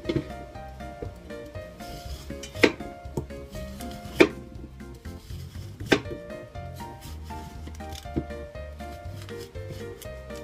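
A knife slices through winter melon on a cutting board, giving repeated soft cutting taps and scrapes with a few sharper knocks, close and fairly quiet over faint background sounds.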